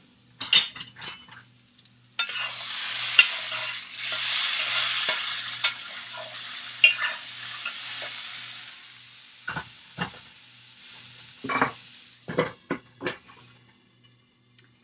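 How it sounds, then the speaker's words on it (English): Potatoes frying in a pan with a bright, continuous sizzle, broken by clattering utensil stirs and scrapes against the pan, with louder bursts toward the end. "we've got the potatoes I'm cooking for Javier."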